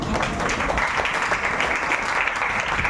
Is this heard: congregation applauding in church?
yes